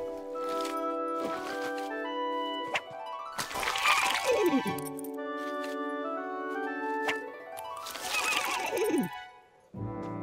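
Two loud cartoon horse neighs, each a long whinnying call ending in a falling whinny, are heard with a short gap between them.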